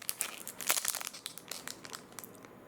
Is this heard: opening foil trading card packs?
yes